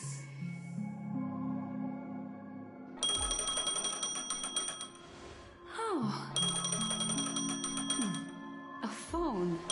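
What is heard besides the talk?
phone ringing in Honkai Star Rail video game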